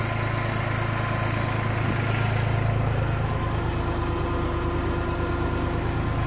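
Erkunt 70 tractor engine driving a 40 kVA PTO shaft generator for irrigation pumping, a steady mid-pitched idling drone with a low mechanical hum, running alone and unchanged throughout.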